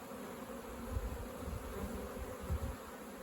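Honeybees hum steadily at a spring apiary as young bees begin flying, a soft continuous drone with slight swells and no voices.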